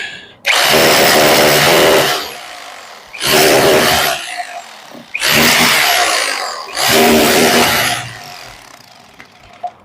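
Power tool cutting into sand and cement packed around a window or door frame, with some wood in the mix: four loud, sustained grinding bursts of about two seconds each, separated by short pauses, close up.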